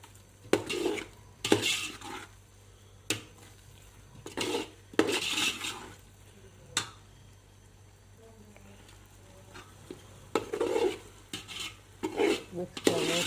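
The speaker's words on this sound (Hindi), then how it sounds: "मिक्स करना है, अच्छे तरीके से मिक्स कर लेना है।" Milk being stirred into carrot halwa in a pot, with repeated scraping and clanking of a spoon against the metal pot coming in irregular bursts separated by quieter pauses, close up, with no one speaking.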